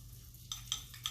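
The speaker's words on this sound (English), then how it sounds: "We're going to take this. We're going to give it a little mix." A utensil stirs melted butter and cinnamon in a pan, giving a few soft scraping strokes over a faint sizzle. The sound is close and quiet, with no talking.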